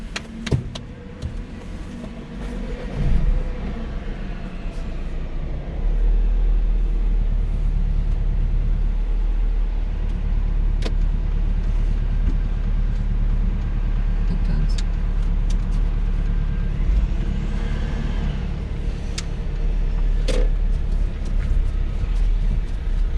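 Car on a UK driving lesson rolling along at a steady pace, a continuous low engine and road rumble filling the background, louder after the first few seconds, with a brief clunk near the end.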